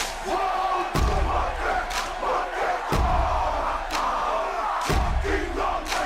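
Wrestling arena crowd in the WWE 2K18 video game, set in Philadelphia, roars steadily throughout, with heavy thuds landing about every two seconds like bodies hitting the mat.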